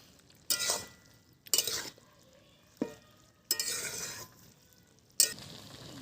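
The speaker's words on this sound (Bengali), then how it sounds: "দিয়ে একটু নেড়ে নেব।" A spoon stirs spinach with cumin and chilli paste in a pan in several short scraping bursts with faint clinks against the metal over a soft background sizzle.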